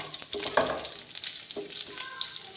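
Meat browning in a pan for mung bean stew, sizzling steadily with repeated scrapes and stirs of a utensil, close and fairly loud, with no talk.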